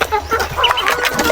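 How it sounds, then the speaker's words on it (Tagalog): A wild duck kept at a farm gives short, rapid quacking calls, a quick burst of nasal notes close by, loud over faint background noise. "Tingnan ko na wild duck."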